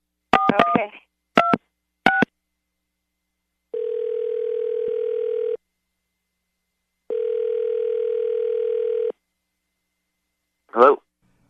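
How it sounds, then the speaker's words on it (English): A telephone number dialled on a keypad: a few quick, loud touch-tone beeps, then two long, steady ringing tones separated by silence, followed by a short final burst. "we'll call him right now and see if we can get him on the phone"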